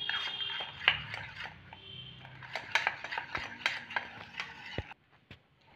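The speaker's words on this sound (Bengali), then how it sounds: "আটা আর তেলটা ভালো করে গুলে নেব।" Flour and oil being mixed with a spoon in a bowl: close, irregular scraping and clinking taps of the spoon against the dish, with a faint hum running underneath.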